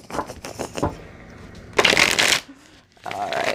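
A deck of question cards is shuffled up close in crisp riffling bursts, one long flurry in the middle, with brief pauses and a voice talking between shuffles.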